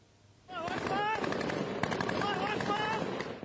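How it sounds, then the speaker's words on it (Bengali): Rapid gunfire crackles in a dense, continuous stream of shots, with voices talking over the shooting. "বৃষ্টির মতো ছোড়া হচ্ছে একের পর এক গুলি।"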